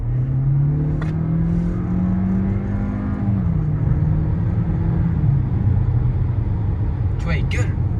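Inside a 2024 Volkswagen Tiguan II SUV, the engine roars as it accelerates, a steady low drone whose pitch rises and shifts through the gears beneath the road rumble in the cabin, with brief soft clicks near the end.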